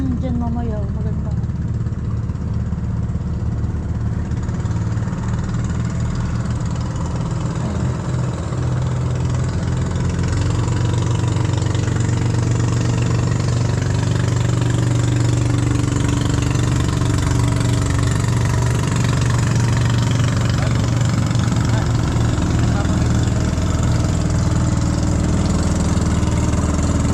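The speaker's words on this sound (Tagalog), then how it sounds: "Guys, ayan na po yung mga bangka." Fishing boat engines drone steadily and loudly beside a river on choppy water, a continuous low idling rumble that holds throughout, with voices at times.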